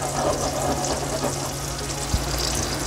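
Slices of cornmeal mush fry in olive oil in a pan, giving a steady close sizzle and crackle with no talking.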